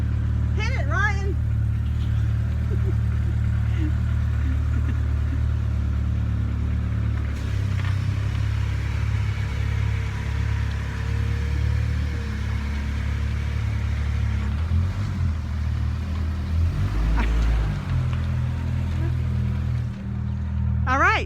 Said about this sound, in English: here goes one right now in his LLV